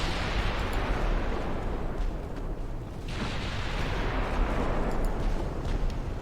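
A warship takes a heavy shell hit during a British 1900 naval battle in Ultimate Admiral Dreadnoughts, a loud, dense roar of explosion and artillery rumble that fills the clip without a break.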